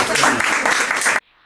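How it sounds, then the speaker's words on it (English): An audience at a tribute event applauds, a dense wash of many hands clapping that cuts off abruptly after about a second. "a wonderful Italian speech for us, for our work, and round of applause"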